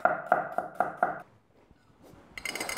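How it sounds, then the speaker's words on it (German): A garlic clove being cut into cubes with a knife, five quick close taps on a board, then a short pause and a brief burst of clatter. "Dann habe ich noch eine Zehe Knoblauch,"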